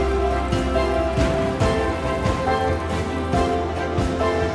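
Rain falling in the Amazon jungle, a steady dense patter of drops on leaves and surfaces, close and continuous with no voices.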